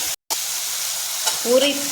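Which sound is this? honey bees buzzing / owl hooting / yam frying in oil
yam frying in oil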